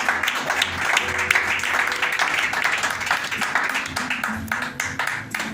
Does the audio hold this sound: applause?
yes